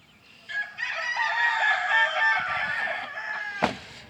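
A pair of Bantam non-bearded buff laced chickens in a brood pen, a rooster's drawn-out crow lasting about three seconds, close and clear, ending with a sharp knock.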